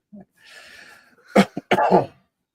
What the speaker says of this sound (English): All of a sudden, I've just developed a cough.